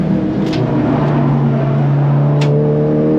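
Race car held flat out on the Nürburgring, a loud steady engine drone with a sustained tone throughout, heard from onboard with brief whooshes of passing air.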